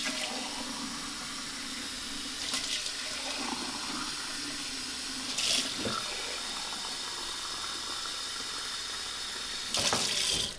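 Tap water runs steadily into a sink while beer glasses are rinsed, a continuous splashing hiss broken by a few louder bursts as the glasses move under the stream.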